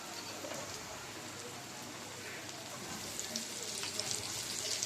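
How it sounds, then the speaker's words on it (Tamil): Soya balls and other ingredients fry in a pan with a steady, fairly faint sizzle that resembles light rain, growing slightly busier toward the end, with no voices. "எல்லாத்தையும் வறுத்து எடுத்துக்கலாம்."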